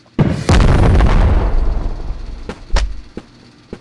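A loud nuke explosion in the Animal Company video game, a sharp booming blast with a long rumbling decay, followed by a couple of smaller pops, no talking.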